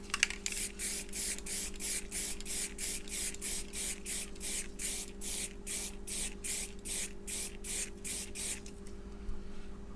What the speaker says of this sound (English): I'm going to spray the ends of these caps as well.